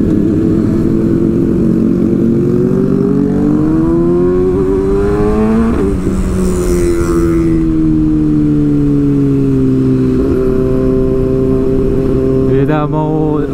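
Motorcycles rev loudly at a large Sunday-morning motorcycle festival in Lampung with hundreds of bikes, engines rising and falling in pitch through repeated throttle blips, close and dominant throughout.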